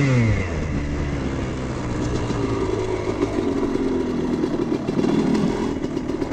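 Honda CR250 dirt bike engine running during break-in on a pit bike track, a loud, continuous two-stroke drone whose pitch climbs early and then holds, rising slightly near the end, with no talking.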